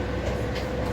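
Dubai Metro train running, a steady low rumble and rolling hum heard from inside a carriage, continuous and moderately loud with no talk.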